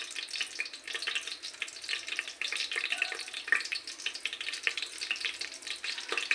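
Ajwain seeds sizzle in hot coconut oil at the start of a chicken biryani, a steady, dense crackling hiss with fine popping that runs without pause and without voices.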